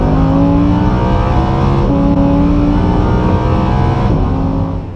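Lamborghini Huracan engine driving through a 7-speed dual-clutch gearbox, a loud steady roar with rising pitch and quick shift breaks, close and continuous with no voices.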